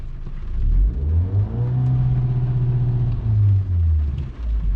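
A VW Golf MK5 engine revs hard in park against its rev limiter, climbing quickly and then holding a loud, steady, buzzing note before dropping back to idle, heard close up.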